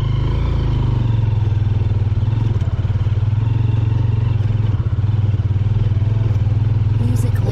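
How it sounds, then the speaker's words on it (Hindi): A motorcycle carries two riders along a mountain road toward Haramosh Valley, its engine droning loud and close with a steady low thrum and rattling clatter throughout. "हम खरामोश के लिए बाइक पे निकल गए हैं डबलिंग करके"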